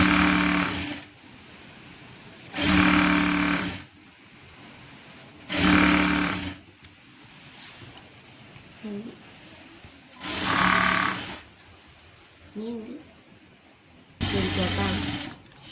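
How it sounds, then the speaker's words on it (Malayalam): A sewing machine stitches a churidar top in four loud bursts of about a second each, separated by quieter gaps where someone speaks softly. "എന്നിട്ട് ഒന്നും കൂടെ സ്റ്റിച്ച് ചെയ്യണം."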